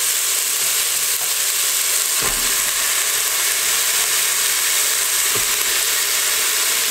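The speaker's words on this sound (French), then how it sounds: "Donc d'abord l'oignon pour le faire dorer aussi un tout petit peu." Onion browning in olive oil with beef for a spicy beef stew, giving a steady, loud sizzle and fry with no pauses and two faint clicks of a utensil stirring the pan.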